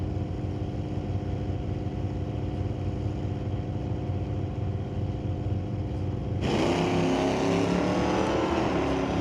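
Drag race cars at an NHRA Division 6 ET Finals meet at Mission Raceway Park, first a steady distant engine rumble, then a sudden loud surge of roaring, revving engines as the cars launch down the strip.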